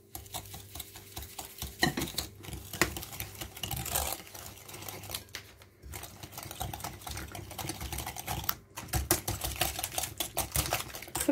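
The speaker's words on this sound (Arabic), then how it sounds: "صافي كنميلونجي هاد البيض مزيان، كنضيف السنيدة" Eggs and sugar whisked by hand in a bowl for a semolina cake, a fast steady stream of clattering taps of the whisk against the bowl, close and continuous with brief pauses.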